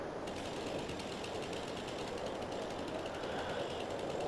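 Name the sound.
chainsaw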